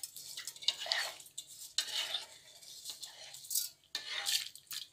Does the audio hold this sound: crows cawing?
no